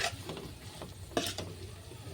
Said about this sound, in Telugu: బాగా కలుపుకొని మళ్ళీ ఉడికిద్దామండి